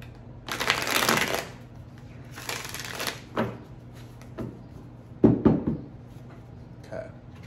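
A Wildwood Tarot card deck being shuffled up close, two long riffling bursts followed by shorter taps and flicks of the cards over a faint steady hum.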